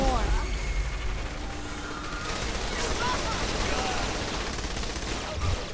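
Gunfire from Saints Row: The Third fills the scene as a continuous dense burst of automatic weapons and explosions, loud and steady throughout, with game effects layered over it.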